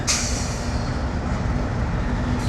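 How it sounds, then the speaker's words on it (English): A train rumbles past close by at the James River Park in Richmond, Virginia, a continuous heavy roar with low droning and rattling that stays loud throughout. "Got a train coming through right now."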